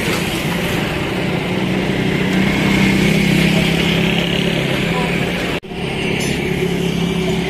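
A Honda CD 70 motorcycle engine runs steadily on a test drive, a loud continuous mid-pitched drone that holds close and even, with a brief sharp dip near the end before it carries on.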